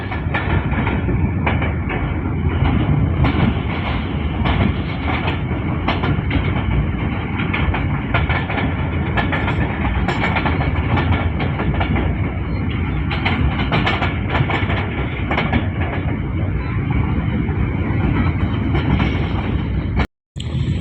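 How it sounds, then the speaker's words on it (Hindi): Sir Syed Express passenger train running steadily on rails, with a loud, continuous rumble and rhythmic clickety-clack of wheels over track joints throughout, no talking, ending in a brief cut of silence near the end. "दोस्तों 2 ट्रेनों को हम ओवरटेक कर चुके हैं।"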